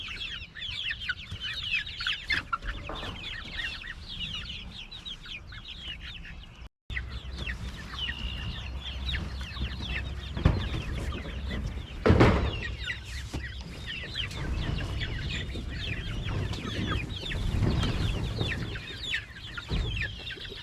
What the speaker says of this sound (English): So to make it easier, I put the ducks and the chicks down here.